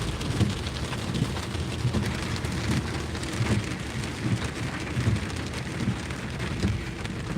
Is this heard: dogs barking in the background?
no